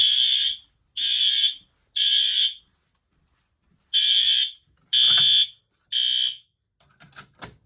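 A Gentex Commander 3 fire alarm horn strobe in a shed sounds six loud, close electronic horn blasts in a steady on-off pattern, each about half a second long, followed by a few faint clicks and rustles.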